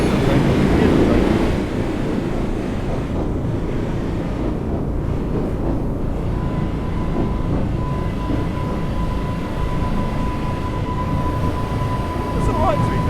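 A train pulls into an underground platform at Aldgate in the Train Sim World 6 video game, a loud continuous rumble and rolling roar with a faint steady tone partway through.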